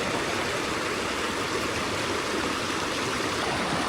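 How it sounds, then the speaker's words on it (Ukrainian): A mountain river near Thuong Lo waterfall in Vietnam rushes steadily over slippery stones, a constant loud wash of flowing water with no pauses or voices. "Вон з гір тече річка."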